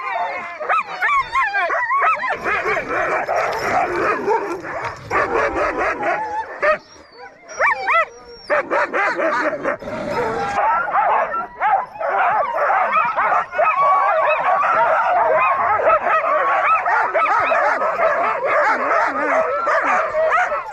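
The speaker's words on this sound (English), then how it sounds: "I've just got to keep hold of the dogs" Sled dogs in Svalbard bark, yip and whimper excitedly at close range, a dense, nearly continuous chorus of overlapping calls with a brief lull midway before the noise builds again.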